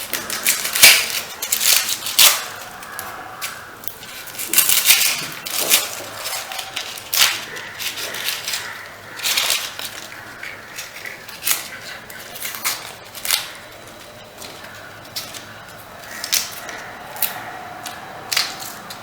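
Dry crackling, snapping rustles come from onion skins being peeled by hand, arriving in irregular bursts of crisp papery tearing with quieter pauses between.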